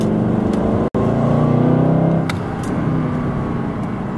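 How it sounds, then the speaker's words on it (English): A Mercedes-Benz C63 AMG Black Series engine revs hard and loud in sport mode, exhaust valves open, its harmonic drone holding high before easing to a lower, steady rumble. "The engine becomes louder."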